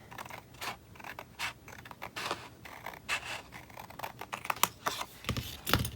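Scissors cutting through laminated paper, a run of crisp rhythmic snips and scratchy slices, close and fairly quiet, with no speech.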